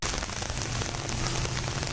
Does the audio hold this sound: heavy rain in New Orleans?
yes